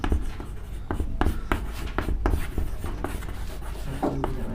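Chalk or marker strokes on a classroom board during a Class 10 maths lesson, a steady run of scratchy taps and scrapes with a few sharper strokes, close and alone without talk.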